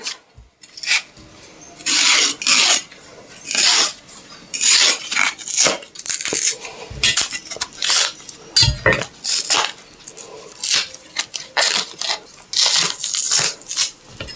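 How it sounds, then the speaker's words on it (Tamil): Raw nendran plantains are cut and peeled for chips, with a knife scraping and rasping at the skins in repeated short, close strokes, broken by occasional light clinks of a blade or dish and brief pauses. "எல்லா காயுமே நம்ம கட் பண்ணி தொலியெல்லாம் நீக்க செஞ்சு எடுத்துக்கலாம்"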